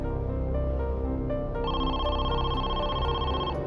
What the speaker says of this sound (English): At 9 p.m., Donnell's sister received a phone call